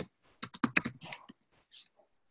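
Keys tapped on a computer keyboard in a short irregular burst of clicks, close and fairly quiet, with no voices.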